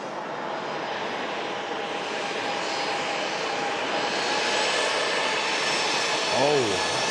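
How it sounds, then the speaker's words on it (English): Turkish Airlines Airbus A321 airliner taxiing across an active runway toward its departure runway at an airport, a steady distant engine rumble and whine running throughout with a brief tonal sweep near the end, people talking faintly in the background. "the Turkish A321 is also taxiing across the active arrival runway to head"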